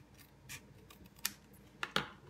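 Scissors snip a small strip off a flap of card, giving a few faint, quick crisp cuts and light paper rustles in a quiet room.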